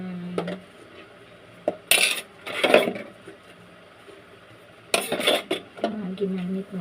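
Dishes and utensils being washed after use: sharp clinks and clatters of plates and cutlery come in two clustered bursts amid quieter handling noise, fairly close.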